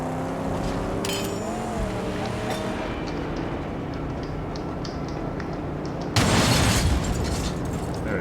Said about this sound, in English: They throw mortars at you.